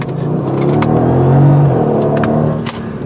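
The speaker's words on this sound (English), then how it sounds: "how this car accelerates" A 2013 Mercedes-Benz CLS 4Matic engine revs hard and roars as it accelerates, a loud, steady rumble that swells and then eases off near the end.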